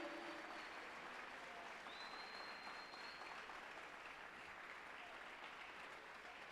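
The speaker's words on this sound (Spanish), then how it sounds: "Alguien dele una ofrenda de palmas al Rey." A church congregation claps together in sustained, even applause that fills the room at low volume from start to finish, with a faint voice barely surfacing underneath.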